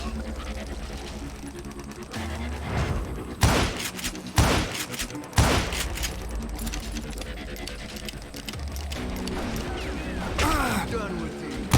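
Gunfire from the video game Call of Juarez: Gunslinger, with several loud sharp shots and bursts over a dense music and effects bed, plus mechanical clicks and a brief voice.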